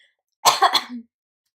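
A single short cough, close and fairly loud, in a few quick bursts followed by a brief throat-clearing sound, then silence.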